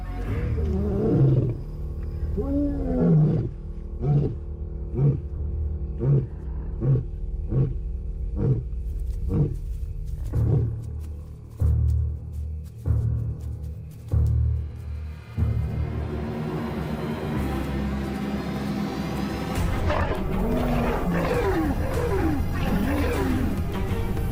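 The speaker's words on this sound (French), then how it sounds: "Son rugissement semble donner un avertissement." A male lion roars in the wild in Botswana, a sequence of deep, loud grunting roars in a steady rhythm, then rumbling growls and snarling as it continues close by.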